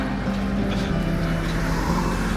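A tractor's low engine rumble idles steadily beside a roadside near travelers hitchhiking in India, loud and continuous with a droning tone and no voices.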